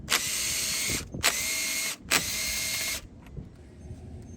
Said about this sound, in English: I'm using the deep socket here because the stud extends a little high